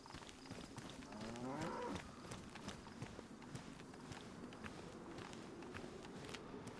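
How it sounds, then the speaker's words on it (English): A cow in the video game DayZ gives a short, fairly faint moo early on, then a steady patter of hoofbeats follows as it runs off, set against background noise. "It's just a cow running off."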